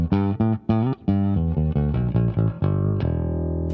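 Bass guitar played through a BOSS IR-200 amp and cab simulator pedal, a run of loud, thick, slightly distorted notes in short bursts and held tones, ending on a sustained low note.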